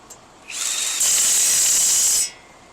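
A Profitec 2100BL impact wrench loosening a wheel nut sends out a steady high-pitched whirring hiss. It runs loud and close for nearly two seconds, growing stronger midway before cutting off.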